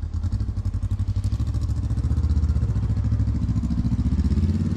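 Motorcycle engine running steadily with a pulsing, clattering mid-range rumble, close by and loud throughout, with no voices over it.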